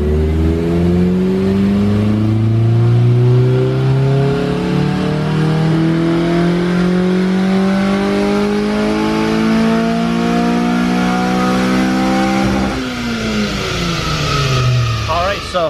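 A Honda K24A2 engine in an EP3 with new exhaust pulls hard on a dyno, a loud, continuous rising rev climbing through the range before cutting off sharply near the end.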